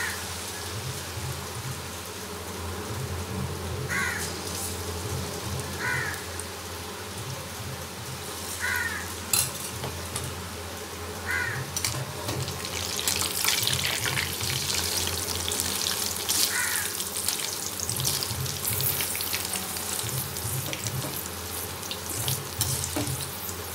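Potatoes frying in coconut oil for potato manchurian, a steady broadband sizzle and bubbling that holds throughout and swells louder in the second half, with faint clinks near the pan and no voices.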